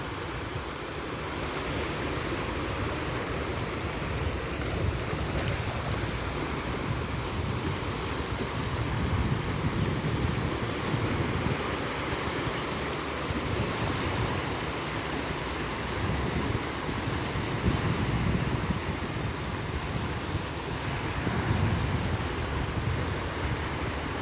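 Evening sea waves wash onto the shore in Hong Kong, a steady, loud, continuous roar of surf with gentle swells and some wind, no voices.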